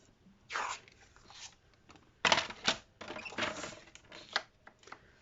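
A paper trimmer slices through stamped cardstock while making a greeting card, giving a few scraping swipes and soft clicks close by amid faint handling noise, with no voices.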